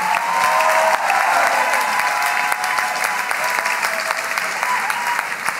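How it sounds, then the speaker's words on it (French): A crowd at a youth political rally in Malakoff breaks into steady, loud applause, dense clapping filling the hall throughout with a few faint cheers mixed in. "On peut les applaudir à nouveau."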